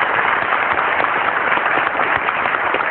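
Audience applause at a Jakarta forum on Indonesian energy sovereignty: a dense, steady wash of many hands clapping that fills the whole stretch at an even, loud level, with no voices on top.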